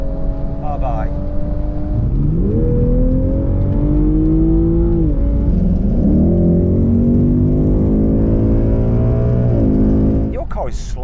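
Toyota Supra and Ford Mustang 5-litre V8 launching in a drag race, loud engines rising through gears with several upshift dips, sustained roar from in-car perspective, brief voices at start and end.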